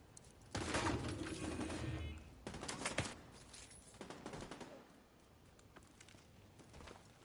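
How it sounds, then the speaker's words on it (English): Gunfire aimed at the player in the video game The Division 2, coming as bursts of rapid automatic shots that start abruptly and fade into sparser cracks and faint background noise. "Stop shooting me!"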